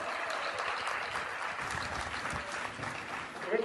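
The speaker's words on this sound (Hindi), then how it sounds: "हाँ इसको ताली बजाओ" A convocation audience at IIM Jammu claps steadily, a dense, even wash of applause that fills the whole stretch at moderate loudness.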